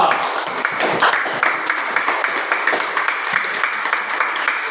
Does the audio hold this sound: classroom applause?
yes